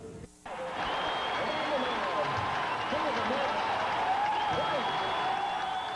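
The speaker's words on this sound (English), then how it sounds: "a sold-out crowd at Shea Stadium welcomed him with a standing ovation" A sold-out crowd at Shea Stadium rises in a sustained standing ovation, steady loud applause and roaring cheers filling the ballpark after a brief quieter start, with scattered whistles and shouts.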